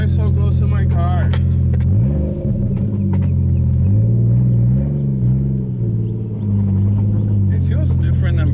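A car running with its exhaust removed produces a loud, deep rumbling drone that rises and falls as the engine revs. People talk inside the car over the throaty engine noise.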